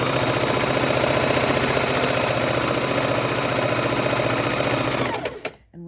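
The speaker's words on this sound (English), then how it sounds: "And we are chain stitching these just like we did to put the blocks together." A sewing machine chain stitching quilt patches, running loud, close and steady with a fast even mechanical rattle, then slowing and stopping near the end.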